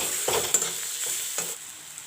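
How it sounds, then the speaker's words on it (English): Ginger garlic paste frying in a pan for a banana kofta curry, with a constant sizzle and a few scraping stirs of a spoon close by, no voices. "I will fry this also a little bit. The raw taste won't be in the ginger garlic"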